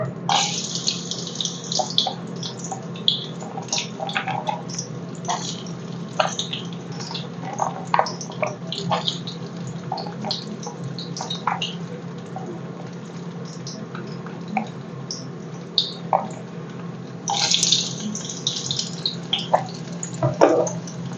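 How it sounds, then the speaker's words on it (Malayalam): Coconut pieces fry in hot olive oil in a pan, giving a steady crackling sizzle with frequent sharp pops and spits that rise and fall, close up and without talk. "അപ്പൊ എണ്ണ ചൂടായിട്ടുണ്ട് നമുക്ക് ഈ തേങ്ങക്കൊത്തൊന്ന് വറുത്തെടുക്കാം"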